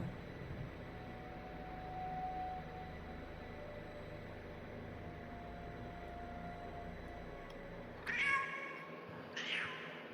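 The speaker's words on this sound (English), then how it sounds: "I'm merely demonstrating that this shows the cat's meow" A cat meows twice near the end, two short bright calls about a second apart over steady broadcast background hiss.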